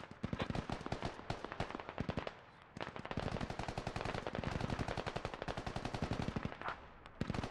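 Sustained machine gun fire from enemy soldiers in the military shooter game Squad hammers out in fast continuous bursts, loud and dense with a brief lull, no talk.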